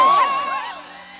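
At a Bhojpuri stage show by Arvind Akela (Kallu), a crowd lets out a loud, brief whooping cheer that quickly fades away.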